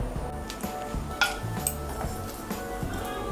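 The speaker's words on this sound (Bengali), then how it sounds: "দিয়ে একটু নাড়াচাড়া করে নিয়ে" Whole garam masala of cardamom pods, cloves and a piece of cinnamon is stirred in a pan, with a spoon scraping and clinking against the metal in soft, irregular taps over a quiet background.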